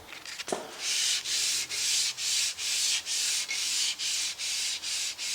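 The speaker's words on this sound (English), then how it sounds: "And just lightly sand it. I'm not putting much pressure on this at all." Sanding block drawn lightly over a Vortec 4.3 engine block in head gasket prep, a close, even rasp of about eleven regular strokes after a single knock at the start.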